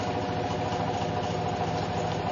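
Generator motor running without load, a steady droning mechanical hum with faint rhythmic vibration, heard up close and alone.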